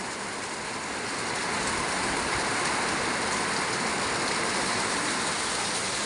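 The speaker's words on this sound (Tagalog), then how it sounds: "Lakas ng ulan." Steady, dense hiss of heavy rain pouring down, building slightly in the first seconds and then holding constant without any talking.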